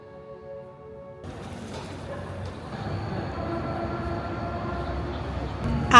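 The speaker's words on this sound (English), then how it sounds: "we figured out how to use these tram tickets and headed up to Pöstlingberg, one of the steepest adhesion railways in the world" Tram on the steep Pöstlingberg adhesion railway in Linz, Austria, a steady low rumble of the car climbing with faint rail noise, building slightly louder toward the end, with a brief spoken voice near the start.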